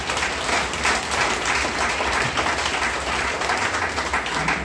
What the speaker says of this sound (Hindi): ठोको ताली इसके लिए।